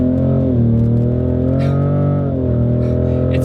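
A 510-horsepower Ford Raptor with an EcoBoost engine and Turbosmart parts pulls hard under acceleration, its loud, steady engine drone rising and dipping in pitch while faint turbo whooshes come and go.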